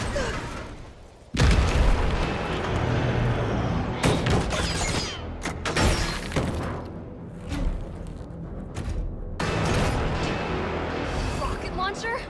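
Rocket launcher blasts and explosions in a Resident Evil video game, several loud booming bursts with rumbling tails and crackling debris, interrupted by brief gaps and overlaid with talking.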